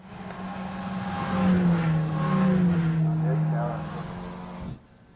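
Race cars at the Kirkistown circuit, including a Mini, pass close by in a sustained engine drone that swells and falls over several seconds, with a commentator talking over it before the sound cuts off sharply.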